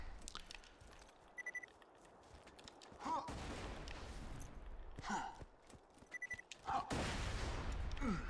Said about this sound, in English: we can use some sweet grenade jumps to accelerate our journey here.